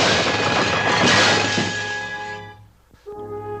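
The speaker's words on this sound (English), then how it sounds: "a bowsprit would come crashing through a window" A ship's bowsprit crashes through a window: a loud, broad splintering smash sustained for about two seconds, then a quieter thud and a brief tonal tail.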